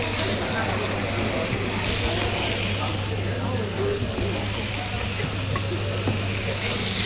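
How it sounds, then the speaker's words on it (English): Seasoned chicken fries in a pan with a steady, dense sizzle throughout, with a constant low hum running underneath. "Start frying that off."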